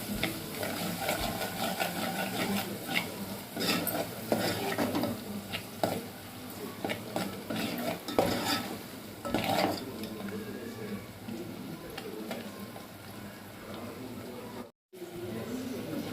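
Turmeric being mixed into a coconut curry in a pan: continuous scraping and clinking of a spoon against the pan with a busy sizzling background, close and fairly steady, a brief dropout near the end.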